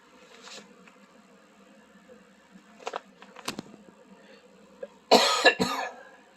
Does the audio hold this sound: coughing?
yes